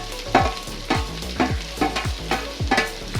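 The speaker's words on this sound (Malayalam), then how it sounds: "ബ്രൗൺ നിറമാകുന്നത് വരെ നമുക്കിതൊന്ന് റോസ്റ്റ് ചെയ്തെടുക്കാം" Green chilies and curry leaves fry in a pan for a ginger pickle, with steady sizzling and regular scraping stirs of a spoon roughly every half second, close and fairly loud, no talk.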